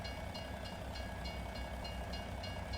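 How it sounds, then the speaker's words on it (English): A train rumbles along nearby tracks in rural Alma, Missouri, a steady loud roar with a faint rhythmic clicking of wheels repeating throughout. "Train must be coming."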